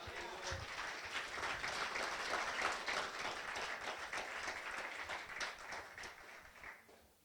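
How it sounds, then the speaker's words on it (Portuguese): A church congregation applauds in a steady, fairly distant wash of clapping that swells slightly in the middle and fades out at the end. "Dá uma salva de palmas, Senhor."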